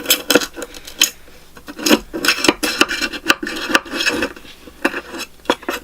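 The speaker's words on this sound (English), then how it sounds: "I'll go around the edge of the pot and just loosen the tree up where I can get in here." A tool scrapes and rasps around the inside edge of a bonsai pot to free the roots of a Ficus microcarpa, giving close, irregular gritty scratches in short strokes.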